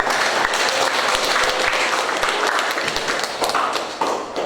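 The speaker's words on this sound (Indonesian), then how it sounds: "Tepuk tangan untuk kita yang luar biasa." A classroom of students claps together in a lively burst of applause, fairly close and steady for a few seconds before thinning out.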